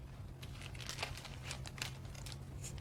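A plastic bag holding a slice of bread and a spoonful of water crinkles and crunches as it is pressed shut, a run of dry, close rustling bursts over a steady low hum.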